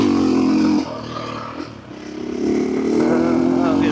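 Motorcycle on a dirt track, engine loud and close, dipping briefly around a gear change before the revs climb again into a strong steady drone as the rider accelerates.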